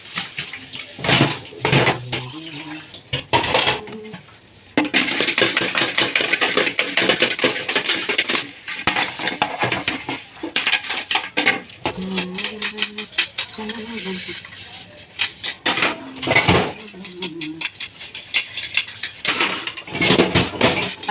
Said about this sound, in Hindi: आ गई मैं रसोई में बर्तन साफ़ करने के लिए